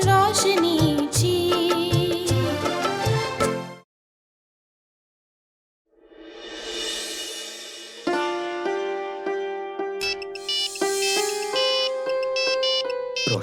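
A mobile phone ringtone plays a bright electronic melody of repeated chiming notes, falls silent for about two seconds, then starts again and builds, clear and up close with no voices.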